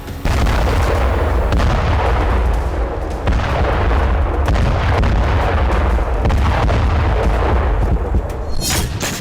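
Explosions from an Israeli army strike on Hamas tunnels in northern Gaza roll in as heavy, repeated booms and blasts over a dense continuous rumble, loud and close throughout with no talk.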